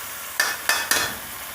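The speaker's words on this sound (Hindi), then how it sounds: "अब हम इसमें लहसुन अदरक का पेस्ट डालेंगे।" Ginger garlic paste hitting browned onions in a hot pan, three quick scraping stirs breaking the steady sizzle, close up and with no talk.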